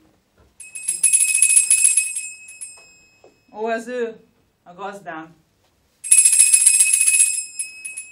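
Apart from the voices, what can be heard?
hand bell being shaken on stage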